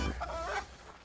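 Chickens being rounded up on a farm give one short, faint cluck that rises and falls within a second against quiet low background noise.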